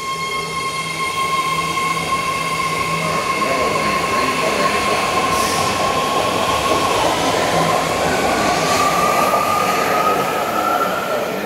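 BART D and E Series train pulling out of Civic Center station, a loud continuous rumble with a steady high whine rising in pitch as it accelerates, with occasional brief squeals, heard close on the platform.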